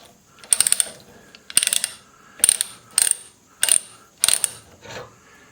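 A hand ratcheting pipe threader works black iron pipe in five distinct clicking bursts, each a quick run of ratchet clicks with short pauses between, close and clear.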